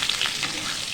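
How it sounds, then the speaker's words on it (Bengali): Potatoes fry in a pan to a reddish brown, a brief, steady, close crackling sizzle with the faint scrape of stirring. "আলুটা প্রায় লাল লাল করে দেখো ভাজাই হয়ে গেছে"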